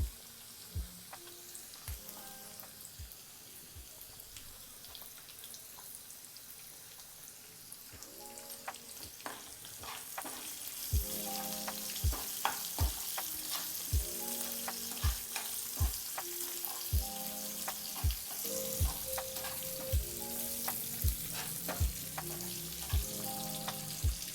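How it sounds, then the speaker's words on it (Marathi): Capsicum fries in a pan for chilli paneer, with a soft sizzle that swells louder partway through. Regular sharp clicks and scrapes come from stirring throughout. "शिमला मिरची थोडी शिजू द्यायची"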